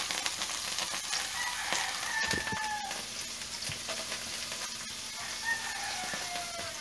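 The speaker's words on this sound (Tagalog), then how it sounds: "igigisa nyo muna yung bawang, sibuyas, at luya" Garlic, onion and ginger sauté in hot oil for chicken tinola, a steady close sizzle with light stirring scrapes and occasional rooster-like squeals in the background.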